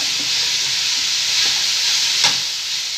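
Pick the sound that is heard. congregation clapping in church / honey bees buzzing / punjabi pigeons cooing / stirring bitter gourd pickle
stirring bitter gourd pickle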